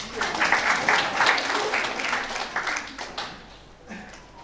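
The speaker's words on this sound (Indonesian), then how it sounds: "Kita kasih tepuk tangan buat Richard." A church congregation at an Easter Sunday service applauds in a steady round of clapping that fades toward the end, with some voices underneath.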